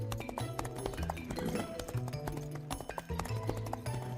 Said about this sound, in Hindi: ऐसे शमशेर का गिरोह घोड़ों पर मुन्ना वालों के पास आए